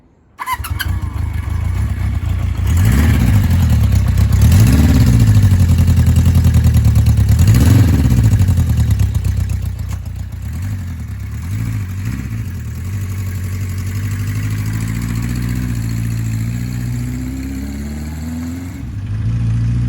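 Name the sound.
Honda CB350/4 classic motorcycle engine riding around yard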